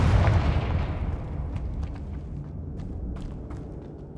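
A Confringo blasting spell explodes in Hogwarts Legacy, a loud booming blast whose deep rumble slowly decays over several seconds, with faint crackles and debris scattering.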